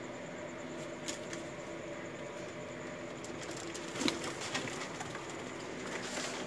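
Pigeons in a loft in Lahore coo softly and steadily, low rolling calls layered over faint background patter and occasional clicks, with no talk.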